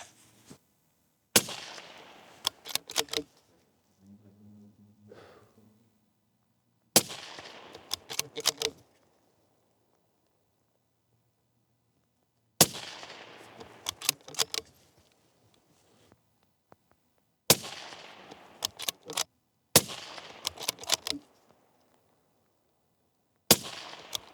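A 22 ARC rifle fired from a bipod at an Infinity steel target sounds as several rapid bursts of sharp, loud cracks, each string followed by a ringing steel clang, separated by stretches of near silence and a brief low hum.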